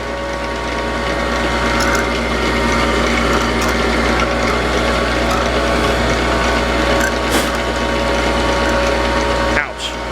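An old Frick sawmill mechanism keeps up a loud, continuous mechanical clatter of ratcheting and gear noise over a low steady drone, with a sharp knock near the end.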